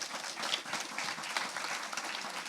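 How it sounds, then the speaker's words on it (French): Soft, steady applause from a conference audience at a colloquium in Quebec, acknowledging a panel; clapping is even and continuous but fairly quiet and distant throughout. "Une belle main d'applaudissements pour notre panel qui..."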